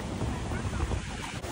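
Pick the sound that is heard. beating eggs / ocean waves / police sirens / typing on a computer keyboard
ocean waves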